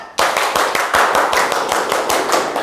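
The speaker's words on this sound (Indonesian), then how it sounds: "Tepuk semangat." A classroom of students performs the tepuk semangat spirit clap, a loud, evenly paced series of sharp group handclaps that carries on steadily throughout.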